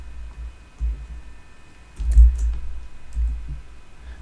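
Typing on a computer keyboard: a few scattered soft key taps, then a quicker cluster of clicks in the second half, fairly close and quiet with no voices.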